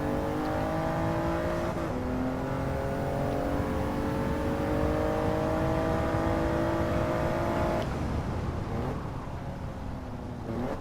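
A Toyota GR Yaris in Gran Turismo 7 revs hard and steady, with the engine note shifting at gear changes near two and eight seconds while the car slides through corners, loud and continuous with no voices.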